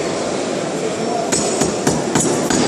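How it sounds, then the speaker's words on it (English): A hammer drives a safety hook anchor into a drilled hole during a live demonstration at a busy trade show, a few sharp metallic strikes spaced irregularly over loud crowd noise and voices. "The moment you enter it, and you hammer it inside, here."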